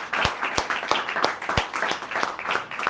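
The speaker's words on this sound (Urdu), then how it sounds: "میرے یسوع کی تلوار کے لیے ایک بار زوردار تالی." A church congregation claps in response to a preacher, a loose run of distinct claps with room echo, rising and falling over a few seconds.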